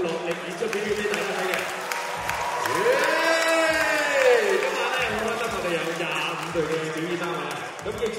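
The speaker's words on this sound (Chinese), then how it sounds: "你哋嘅掌声同埋欢呼声应该仲大声过我哋喎" A dance showcase crowd breaks into sustained applause and cheering with whoops that swell and then fade, while an amplified host's voice carries over the noise.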